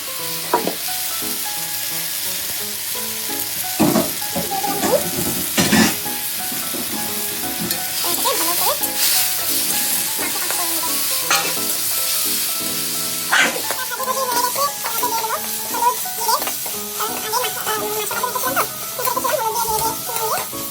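Onion and chili paste fries in a pan for a fish curry, a steady sizzle with repeated scraping stirs and clatter from a utensil, close and fairly loud throughout.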